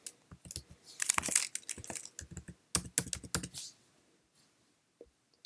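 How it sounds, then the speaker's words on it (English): Rapid keystrokes on a Mac computer keyboard as a phone number is typed in, a brisk run of close, dry clicks in bursts that thin out to a few isolated taps near the end. "So I'll be typing in my phone number."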